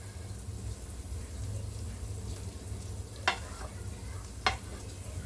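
A chicken marinade of vinegar, green chili and dark soya sauce is stirred in a bowl, a soft steady scraping with two sharper clinks of the spoon against the rim near the end; no one speaks.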